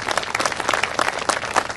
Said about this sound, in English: let's give him a round of applause just for serving our country